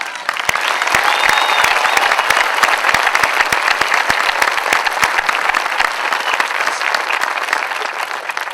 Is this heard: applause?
yes